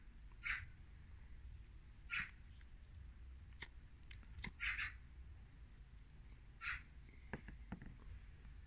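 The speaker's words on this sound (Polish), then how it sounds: "Ptaszki." Birds call outdoors in short, sharp, scattered bursts at moderate distance over low background rumble, with a few brief clicks between calls and no voices.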